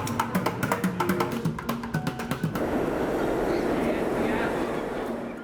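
Rhythmic clacking and tapping gives way to a loud, steady roar of a subway train running close by.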